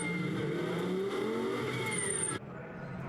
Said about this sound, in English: And a glorious noise as he accelerates and then brakes to generate the warmth in the tyres and brakes.